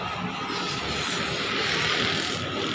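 A Belarus tractor's diesel engine starting up and running, a loud, steady, dense roar that holds evenly through the whole stretch with no pauses.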